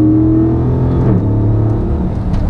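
A 2016 Dodge Charger R/T Scat Pack accelerates away hard. Its engine note climbs in pitch, drops briefly at a gear change, then pulls again, sounding close and loud.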